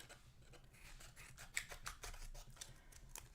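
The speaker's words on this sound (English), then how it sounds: "this is a little wide, but I'm just gonna snip it" Scissors give a quiet series of short snips while trimming a slightly wide piece during a live craft session, each cut light and close, with faint background hiss and no talking.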